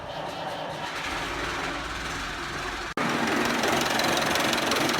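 A farm vehicle engine fires up and runs after its battery has been charged in cold weather, a steady loud rumbling drone with a brief cutout midway before continuing louder.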